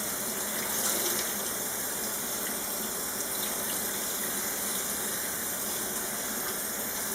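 A tap runs in a steady, loud, unbroken gush into a sink as dyed cross-stitch fabric is rinsed under it, with no voices.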